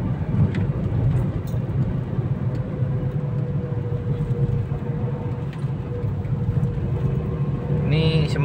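An LPG-fuelled car engine runs steadily at low throttle while driving, a continuous low rumble with road noise throughout.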